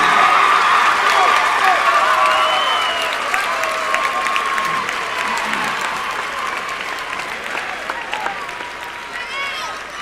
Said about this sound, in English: let's have a round of applause for our 2004 AAA runners-up